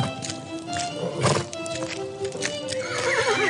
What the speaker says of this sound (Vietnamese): điều khiển ngựa cày ruộng. Con ngựa cứ thế làm việc phăng phăng.